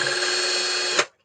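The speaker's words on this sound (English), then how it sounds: "It's drilling time." A power drill whines steadily at close range while driving into a plastic Nerf AR-L Fortnite blaster. The high motor tone holds for about a second, then spins down and cuts out abruptly.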